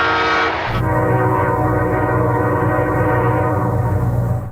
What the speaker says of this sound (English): he made locomotive horns more musical